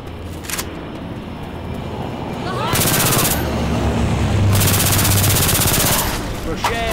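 Sustained automatic gunfire from Left 4 Dead 2 gameplay, with rapid continuous bursts that swell and hold for several seconds, loud and close, amid game noise.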